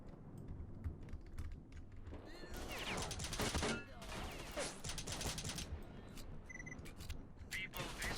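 Gunfire from the S.T.A.L.K.E.R. Shadow of Chernobyl video game, with sharp bursts of shots clustered in the middle and scattered single cracks around them, mixed with clicking and someone talking.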